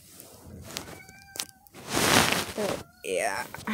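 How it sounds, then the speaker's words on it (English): A pet cat meows indoors, a few short tonal calls rising and falling, mixed with nearby talking and household rustle on New Year's Eve. "Excuse my cat if you hear him."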